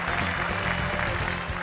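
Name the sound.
applause at the unveiling of the Mahindra XUV500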